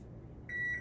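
An oven beeps after preheating to 350, a short faint electronic tone sounding twice in quick succession over a low background hum.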